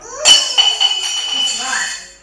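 A glass in a preschool air experiment gives one sharp, ringing clink up close, followed by a few lighter taps and a fading shimmer.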